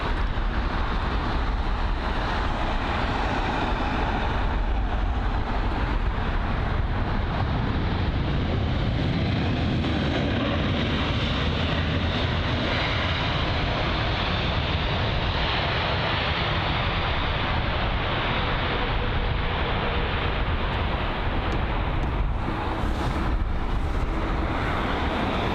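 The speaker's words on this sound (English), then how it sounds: "we've got the Air Malta A320neo" An Air Malta Airbus A320neo arrives at London Heathrow, its engines a loud, sustained roar that holds steady throughout, with no voices.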